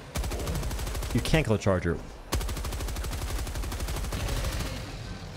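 Rapid, steady automatic fire from the Stalwart support machine gun in Helldivers 2, a long continuous burst that breaks briefly while a voice talks, then resumes at an even rate.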